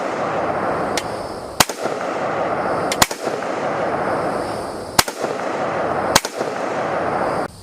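AR-15 rifle firing .223 rounds at a steel silhouette outdoors, five loud, sharp shots spaced about a second or two apart, each a crisp crack over a steady background hiss.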